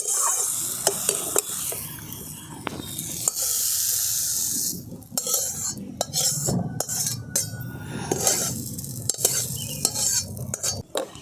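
A spoon mixes a potato filling with lemon in a pan. Repeated close metallic scrapes and clinks sit over a light sizzle, in irregular strokes with brief pauses and no talking.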